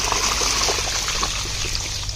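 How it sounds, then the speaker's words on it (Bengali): Water trickling and draining steadily as freshly caught pond fish are strained, a close, continuous wet rush with no talk. "মাছগুলো সব ছেঁকে যাবে।"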